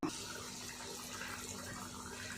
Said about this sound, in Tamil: 200 மில்லி தண்ணி ஊற்றினா போதும்